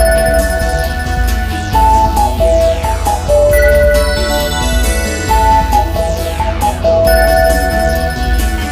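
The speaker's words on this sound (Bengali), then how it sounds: "নামাজের টাইমে কে কল দেয়?" A phone ringtone plays a repeating melodic tune, steady and clear, filling the whole stretch with no voices.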